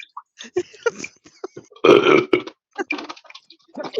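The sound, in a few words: burp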